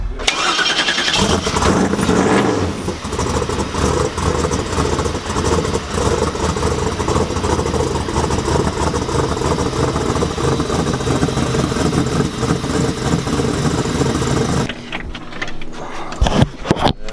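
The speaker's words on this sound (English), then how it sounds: "May have to give a little gas to get it running." An off-road race vehicle at King of the Hammers cranks and fires up, then idles loudly and roughly close by for a long stretch before cutting off, and a brief rattle follows.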